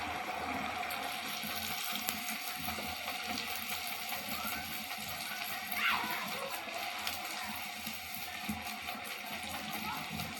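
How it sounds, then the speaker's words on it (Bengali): A rosette mould sizzles in hot oil as it heats before being dipped in flour batter for fried rosette snacks, a steady, continuous frying hiss close by with no talking. "ছাঁচটা তেলে গরম করতে দিয়েছি এইভাবে তেলে দিতে হবে"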